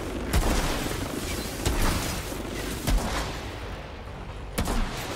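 Gunfire in the shooter video game Outriders: several sharp, loud shots spaced about a second apart over a busy background of game noise, with no talking.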